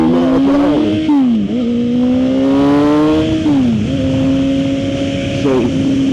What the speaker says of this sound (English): I get to the rev limiter now